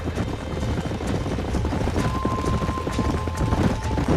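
Horse hooves clip-clopping in the Red Dead Redemption video game, a quick continuous patter of hoofbeats at moderate volume over a windy, rumbling outdoor background, with no talk.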